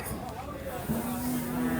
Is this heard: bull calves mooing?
yes